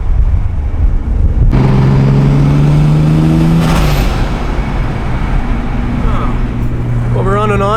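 A 600 HP single-turbo BMW 335i engine pulls hard under acceleration from inside the car on an on-ramp, a loud rising drone climbing in pitch as boost builds, followed by turbo whoosh and a second, steadier pull.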